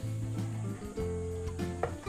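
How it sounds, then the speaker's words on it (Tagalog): Steady sizzling of banana frying in hot oil, with stirring and light scraping against a pan nearby. "Prito po natin yung saging."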